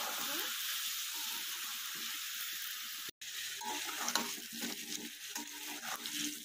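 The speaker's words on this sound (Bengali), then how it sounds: "এই আলু পেঁপেটা ভেজে নেবো ভালো করে।" Potato and papaya pieces frying in a pan with a steady, loud sizzle and crackle, with a few stirring scrapes and one brief cut-out midway.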